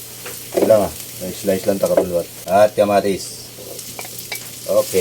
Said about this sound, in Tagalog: Gisahin lang muna natin para maluto yung ating kamatis